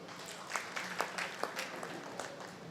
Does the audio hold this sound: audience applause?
yes